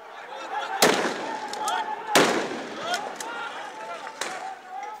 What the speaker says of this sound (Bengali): মুহুর্মুহূর্তে আসছে রাবার বুলেট, সেই সঙ্গে সাউন্ড গ্রেনেড নিক্ষেপ।